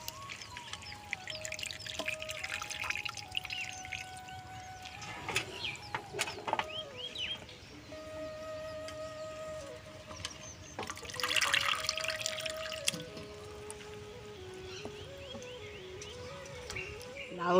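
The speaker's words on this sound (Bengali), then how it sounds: "লাউর ডোগাটা সুন্দর করে কাটা হয়ে গেছে, জলেতে দিয়ে দিয়েছি। ধুয়ে নেব এইভাবে।" Cut bottle gourd greens are swished and washed in a basin of water, with soft sloshing and splashing bursts, intermittent dripping and occasional clinks, fairly close and unaccompanied by talk.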